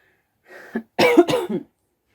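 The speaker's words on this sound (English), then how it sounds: "sorry, I got this cough" A person coughs a few times, short rough bursts close to the microphone, with a brief pause after the first one.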